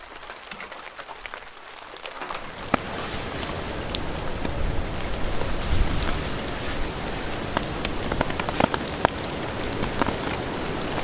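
Heavy rain pours steadily on a farm beside a fence line and field, starting softer then becoming a loud, dense hiss of drops with occasional sharper splats, continuous with no voices.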